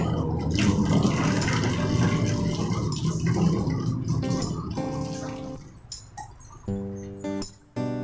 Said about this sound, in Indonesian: kita masukkan air 2 liter, boleh air keran atau boleh air tanah ya